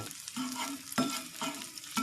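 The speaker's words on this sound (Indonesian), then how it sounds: "kita goreng bawangnya dulu nih," Onions frying in a Teflon pan over low heat: a steady sizzle is broken by a spatula scraping and stirring in regular strokes about every half second, up close and with no talking.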